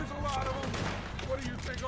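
Gunshots in the video game Red Dead Redemption 2 rattle through a short, busy stretch of steady firing with a faint tonal game score underneath.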